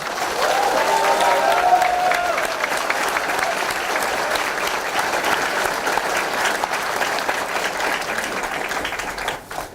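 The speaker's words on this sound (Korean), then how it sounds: "우리의 제안을 정부 여당이 수용해 줄 것을 힘찬 박수로 촉구합시다" A large crowd applauds at a political party's founding promoters' convention, with sustained, loud clapping that carries on for nearly ten seconds before trailing off at the end.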